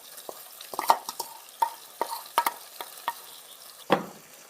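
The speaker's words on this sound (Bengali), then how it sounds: "দিয়ে দিচ্ছি পেঁয়াজ বাটা" Onion paste frying in a pan for chicken curry, with a spoon scraping and stirring in irregular close bursts over a soft sizzle.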